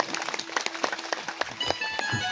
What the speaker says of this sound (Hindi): ताली बजाओ भैया।